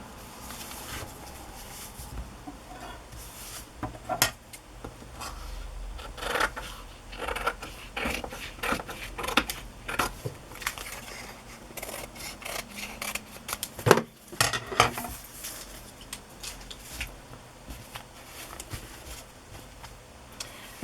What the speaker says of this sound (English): Be careful not to cut the fabric here as I trim the bottom.